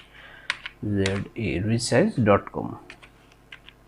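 A web address is typed on a computer keyboard in a Firefox address bar, a few brief, light key clicks partly buried under someone speaking.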